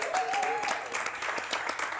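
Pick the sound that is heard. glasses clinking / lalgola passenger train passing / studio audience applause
studio audience applause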